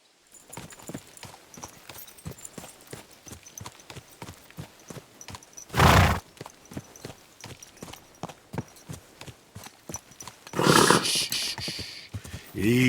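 Horse hooves clip-clop steadily at walking pace in the medieval game Kingdom Come Deliverance 2, with a loud snort or burst near the middle and another louder burst of neighing or snorting toward the end.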